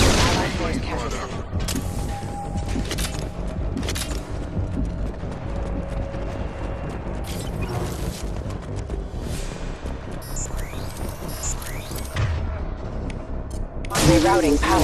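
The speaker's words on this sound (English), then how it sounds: "Taking heavy fire!" Sustained heavy gunfire from a Mass Effect 2 combat scene: dense, continuous rattling shots with metallic mechanisms and short tonal bleeps, steady and loud throughout, swelling into a louder burst near the end.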